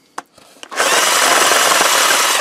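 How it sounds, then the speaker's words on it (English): A power drill with a 3/4 inch spade bit bores a hole, preceded by a couple of sharp clicks, then spins up into a loud, steady, rasping whir up close. "I use the spade bit to make a hole"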